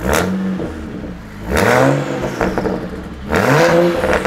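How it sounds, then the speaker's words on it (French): A cold BMW 335 engine revs up in three strong bursts, each rising in pitch and then settling back to a rough, close idle. "Vas-y, mets un petit peu de gaz, un petit filet de gaz parce qu'elle est pas chaude."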